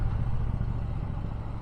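Triumph Bobber Black motorcycle with an airbox delete and filters, rolling on in fourth gear just under 2000 revs, giving a steady, loud, deep engine rumble throughout.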